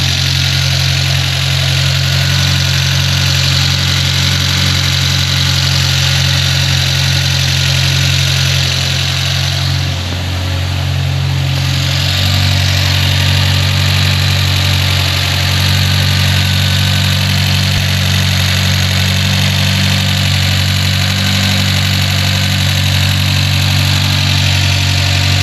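A Renault Supercinco with a swapped-in 1.4-litre 72 hp engine idles steadily, a loud, close, constant low rumble that dips briefly midway and then holds an even note with no voices.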